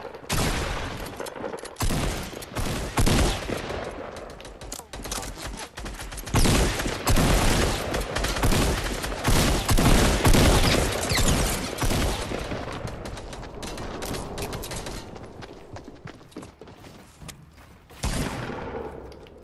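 Dense, loud bursts of automatic gunfire in the video game Fortnite rattle almost continuously, thinning and fading toward the end before one last sharp volley.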